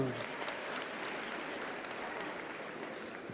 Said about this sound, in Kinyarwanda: Mumuha amashyi menshi cyane